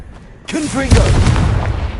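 After a quiet moment, a Confringo spell in Hogwarts Legacy goes off with a sudden heavy boom and a rolling, rumbling tail, while a voice sounds out over the start of the blast.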